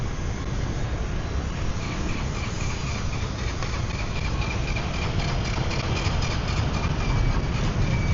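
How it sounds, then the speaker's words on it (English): A motorbike engine runs rough on a busy Saigon street on a Sunday night, giving a loud, steady, uneven chugging rumble that fills the whole stretch without any voices. "That doesn't sound good on that motorbike."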